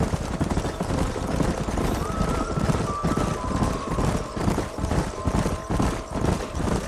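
A herd of horses gallops in Red Dead Redemption, a dense, continuous rumble of hooves that stays loud and close throughout, with no pauses.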